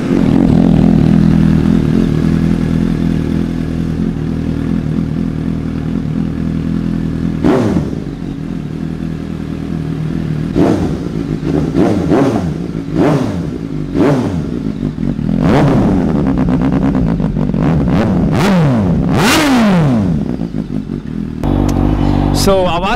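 An inline-four naked motorcycle fitted with a short can exhaust idles loudly, then revs in several sharp bursts that climb and fall, close and steady throughout with a few clattering thumps.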